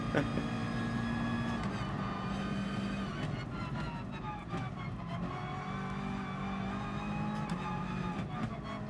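A Honda NSX race car in GT Sport, its engine droning steadily with gear shifts and rising whines, under occasional talk.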